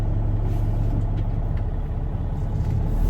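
A Peterbilt 589 tandem axle dump truck with an 18-speed automated Paccar transmission pulls away gently, its diesel engine a steady low rumble heard from inside the cab, even and continuous with no talk.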